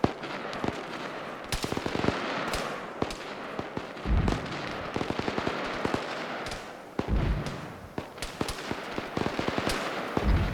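Incoming indirect artillery fire in the video game ArmA 3, sharp cracks and distant thumping impacts scattered irregularly throughout, some in quick bursts, with heavier booms rolling in at intervals.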